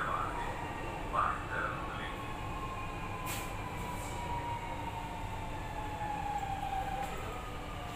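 A Lucknow Metro train rumbles steadily along the track with a continuous low drone and a faint high whine, with a few brief squeals and clanks.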